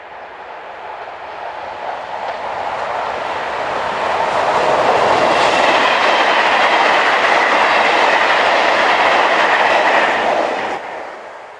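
French electric locomotive BB 7239 hauling a Paris-Bercy to Lyon-Part-Dieu passenger train rolls past, a loud broad rumble with faint clickety-clack that builds, holds steady, then fades at the end.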